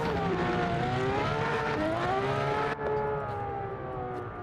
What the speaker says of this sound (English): That's a loud car. Who's that doing burnout in the pits?